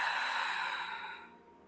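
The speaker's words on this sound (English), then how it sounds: "Exhale slowly out your mouth." A slow, breathy exhale through the mouth during a gentle beginner yoga breathing practice, a soft steady airy rush close to the listener that gradually fades over under two seconds, with no talking.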